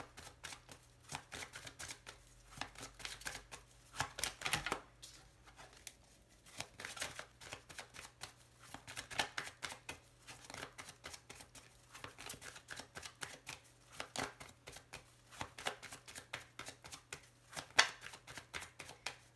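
Small Lenormand fortune-telling cards are shuffled and laid out, making rapid, dense, crisp flicking and riffling that runs almost continuously, close and quiet, with a few brief pauses.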